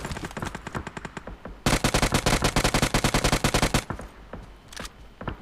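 Rapid automatic gunfire from PUBG Mobile rattles in close, loud bursts, a long unbroken volley in the middle flanked by shorter runs of shots and a few scattered final pops.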